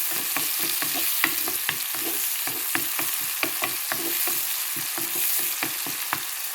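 Onions frying and sizzling in a pan while being stirred, giving a steady hiss broken by repeated sharp scrapes and clicks of a spoon, close and fairly loud.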